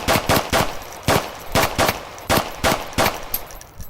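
Rapid bursts of gunfire in the VR shooter game Onward, roughly eight sharp, loud shots in quick irregular pairs and singles, close and dry with no talking.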